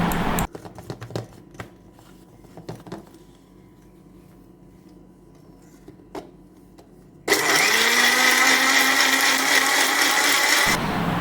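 A few clicks and knocks, then an electric mixer grinder roars to life, blending grape and mango juice loudly and steadily for several seconds before stopping.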